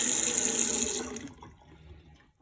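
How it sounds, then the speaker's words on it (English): A kitchen tap runs cold water in a steady bright hiss for about a second, then shuts off, leaving a few faint drips and quiet trickling. "So I just get some cold water."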